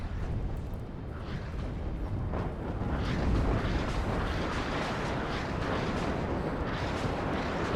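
Rocket strikes in the WARNO war strategy game land as a dense, continuous roar of overlapping explosions and rumbling artillery-like booms, loud and sustained throughout.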